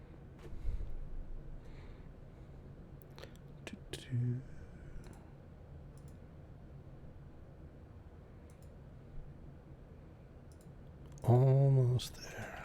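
Computer keyboard typing heard as sparse, quiet clicks and taps spread across a hushed room, with a few louder thumps and a brief burst of noise near the end.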